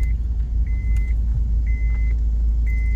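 Manual car slowing to a stop during a driving lesson, a steady low engine and road rumble inside the cabin with a few short repeated indicator-like beeps over it.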